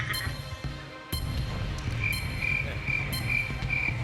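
Cricket chirping sound effect on a TV game show, a repeated high, bright chirp pulsing steadily over low studio background noise.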